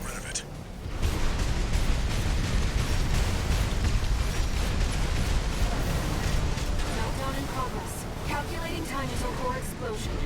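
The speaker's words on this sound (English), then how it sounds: "explosion." A loud explosion in the mech combat game Armored Core VI, a sudden broad roaring blast that rumbles on for several seconds before fading into crackling debris.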